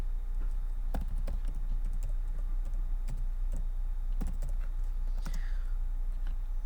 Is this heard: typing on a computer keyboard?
yes